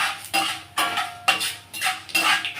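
Peanuts frying for pulihora are worked in a metal pan, giving about six rhythmic bursts of rattling, scraping clatter, close and fairly loud, with no speech.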